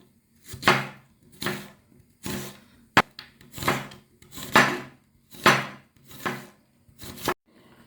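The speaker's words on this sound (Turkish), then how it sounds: "Soğanlarımızı 3 adet soğanımızı bu şekilde doğruyoruz" Onions cut into julienne strips with a knife on a board, about nine crisp, evenly spaced chopping strokes close up, with no talking.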